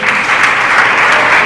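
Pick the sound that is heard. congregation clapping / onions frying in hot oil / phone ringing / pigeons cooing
congregation clapping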